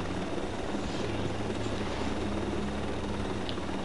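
A helicopter in the video game Ghost Recon Breakpoint drones with a continuous thrumming rotor wash, steady and moderately loud, with no voices.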